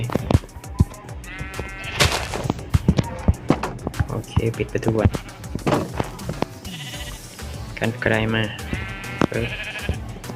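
Sheep in Minecraft bleat several times in short wavering calls among clicks and game effects, while a player talks throughout.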